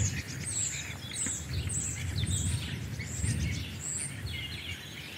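A blackbird chattering in a garden, a rapid run of high, scratchy notes repeating throughout at moderate distance over a low rumble of background noise.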